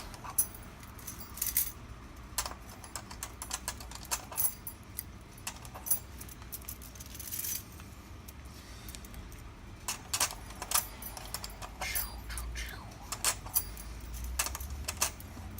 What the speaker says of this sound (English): I know I've done a hanging keys video before